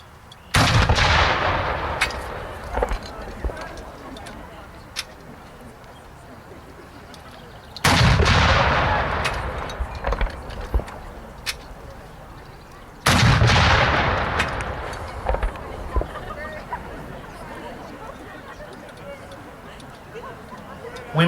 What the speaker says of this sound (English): We will now have 3 volleys of cannon firing